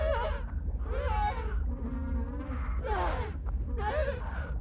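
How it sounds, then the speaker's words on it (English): A PUBG Black Budget character dying in the play zone, letting out a series of strained groaning cries, about five rising and falling vocal bursts in a row, heard close and on their own. "I'm gonna play you what your character sounds like if you're dying to the play zone"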